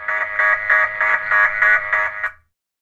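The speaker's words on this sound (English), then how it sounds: "All of a sudden, an alarm goes off." An electronic alarm buzzes in a steady pulsing rhythm, about eight rapid beeps, then cuts off abruptly.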